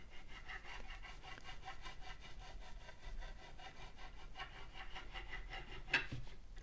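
A fret-leveling file grinds across the frets of a kit guitar in a steady back-and-forth rasp, quiet and close, with a slight scrape near the end.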